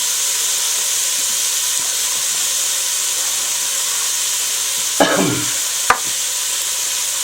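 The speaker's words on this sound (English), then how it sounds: "2 diced onions into the pan" Two diced onions frying in canola oil in a pan give a steady, even sizzle and hiss, broken near the end by a couple of short stirring scrapes.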